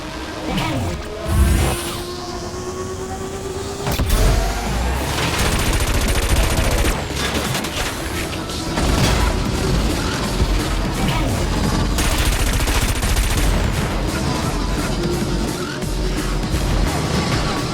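A rapid-fire cannon weapon blasts repeatedly in the futuristic anti-gravity racing game Wipeout Omega Collection, a loud, dense barrage of shots over roaring racing-craft noise that runs continuously.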